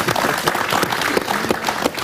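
Audience applause at an indoor dialogue event, a short dense burst of clapping, steady and close, with no talk.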